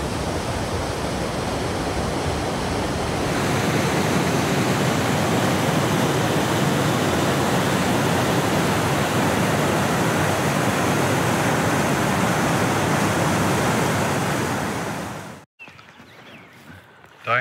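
A river swollen with snowmelt rushes loudly and steadily, a dense unbroken roar of water close by that cuts off abruptly near the end, leaving quieter outdoor sound.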